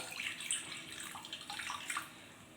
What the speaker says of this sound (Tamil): 1/2 டம்ளர் தண்ணி ஊற்றிக்கலாம்.